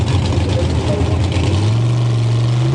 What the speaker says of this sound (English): Both cars edging forwards into stage.